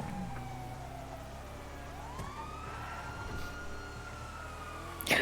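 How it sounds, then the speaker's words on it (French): Faint wailing police sirens rising and falling in the distance, mixed with a low engine rumble. "Ah non, y'a des sirènes."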